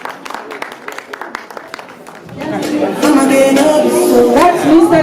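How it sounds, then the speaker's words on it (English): An audience at a Nigeria-Australia multicultural day event breaks into applause and cheering that builds after a few seconds of a speaker's amplified talk, growing loud and full. "Please let's give him a round of applause."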